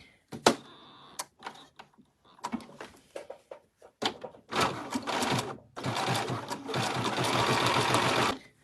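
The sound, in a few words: sewing machine stitching fabric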